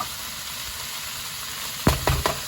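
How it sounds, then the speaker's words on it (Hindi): Green onion greens sauté in a hot pan, a steady soft sizzle running throughout, then a few louder bursts of frying and stirring near the end, close by with no talking. "इसको हमने ज़्यादा देर नहीं पकाना, सिर्फ सौते करना है 2 से 3 मिनट के लिए।"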